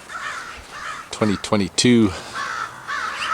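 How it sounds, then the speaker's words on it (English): Crows caw repeatedly on a residential street, with harsh calls repeating in the background while someone speaks nearby over them. "There's a big congregation of crows all of a sudden on my street here with magpies"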